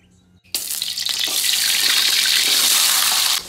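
Jengkol frying in hot oil, an abrupt loud sizzle that starts at once and holds as a steady hiss of bubbling before cutting off near the end, with no talking over it.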